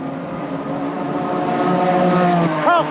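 Formula One race cars, including a McLaren, scream along a track in a continuous high engine whine that builds slightly louder, ending with a quick rising and falling pitch sweep as a car passes close.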